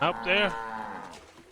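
A cow in the Assassin's Creed Origins video game lets out a close, clear moo with a rising then falling tone, a brief low groan trailing off, and a short spoken line overlapping it.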